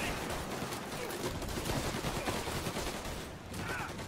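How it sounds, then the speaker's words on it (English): Dense, continuous gunfire from the Mafia video game: overlapping shots in a sustained, loud fusillade lasting the whole stretch, with no clear pauses. "Who are they shooting at?"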